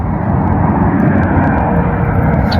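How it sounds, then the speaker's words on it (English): An airplane flies overhead, a loud, steady broadband roar of engine noise that holds continuously with no break. "there's another plane"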